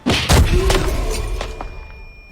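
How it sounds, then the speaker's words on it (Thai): A grenade in the video game Arena Breakout explodes with a heavy thud followed quickly by a second blast, then a rumbling, crackling decay that fades over a couple of seconds. "ปาระเบิดมาเลยอ่ะ"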